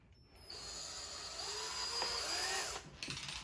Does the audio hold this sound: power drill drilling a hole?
yes